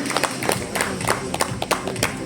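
An audience claps in welcome for a women's handball team captain at a league launch event, giving a light, scattered round of applause that stays moderately loud and steady.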